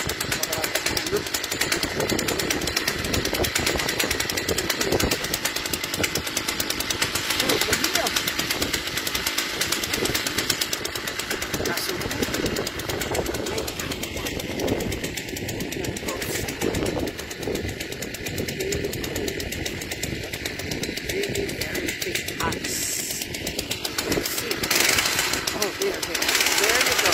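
A motorized ice drill bores through a frozen lake with a loud, steady engine roar and rattle, its pitch shifting midway as it bores, with voices mixed into the noise.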